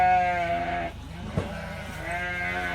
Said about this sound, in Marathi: हे बघा मेंढ्या,